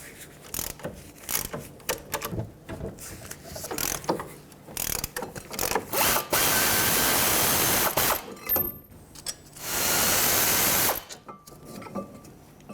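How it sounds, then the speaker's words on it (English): A 17mm socket works loose the brake caliper bolts on a 2003-2008 Toyota Corolla, with close, rapid ratchet clicking in bursts alternating with longer steady ratcheting runs and short pauses. "with a 17mm socket, let's remove both of these bolts that hold the caliper onto the knuckle"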